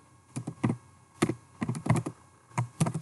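Typing on a computer keyboard while writing C++ code, clusters of quick close key clicks in irregular bursts with brief pauses, no voices.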